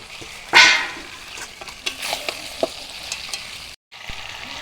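Duck meat frying and being stirred in a pan with fried potatoes and papaya, a soft steady sizzle with a louder hiss at the start and scattered clinks and scrapes of the spoon.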